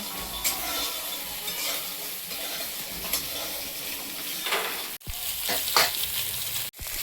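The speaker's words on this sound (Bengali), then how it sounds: "বড়িগুলো কিন্তু কম আছে, ভালো লাল লাল করে ভেজে নিয়েছি, এখন তুলে নেব।" Lentil dumplings (bori) frying in hot oil until deep red-brown, a steady close sizzle with occasional stirring scrapes and two brief dropouts near the end.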